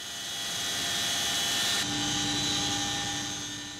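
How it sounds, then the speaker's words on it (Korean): Military helicopters carrying special forces free-fall troops take off, a loud, steady rotor and engine drone holding near and constant with a slight shift partway. "고공강화 대원들을 태운 헬기들이 서서히 하늘로 날아오르기 시작한다."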